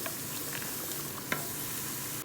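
Onions and chicken sizzle steadily in a hot pan while a spoon stirs them, with a continuous frying hiss and a few soft scrapes and clinks, close and alone without talk.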